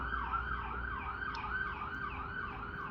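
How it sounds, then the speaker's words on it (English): An ambulance siren wails in a steady rising-and-falling cycle, loud and close, with road traffic rumbling underneath. "I'm gonna let this ambulance go past"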